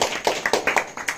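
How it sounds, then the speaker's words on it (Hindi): A small classroom group claps for a student's Hindi essay on Raksha Bandhan: a short burst of about seven sharp, separate hand claps, close and moderately loud, with no speech. "जोरदार तालियां।"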